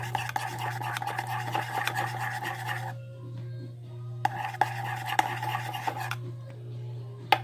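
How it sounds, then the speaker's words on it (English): Soap slime worked with a mixing tool, a close rasping, rubbing scrape that runs in two stretches separated by a pause, with occasional sharp ticks and a steady low hum underneath. "Then you're going to take your mixing tool and you're going to mix it."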